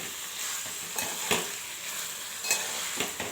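Cauliflower fry with coriander cooks in a pan, a close, even sizzle with a few light stirring taps over a few seconds.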